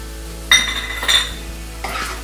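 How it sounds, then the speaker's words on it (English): A spoon stirs mashed beans seasoned with salt and pepper in a pan, making three short scraping clinks spaced about half a second apart over a faint sizzle. "And stir."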